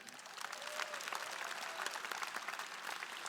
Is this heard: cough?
no